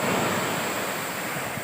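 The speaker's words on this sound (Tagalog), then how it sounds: "Lalong lumakas yung agos. Ay yung alon pala." Ocean surf on a Pangasinan shore at night, a steady broadband wash of waves with some wind noise on the microphone, continuous and fairly close through the short stretch.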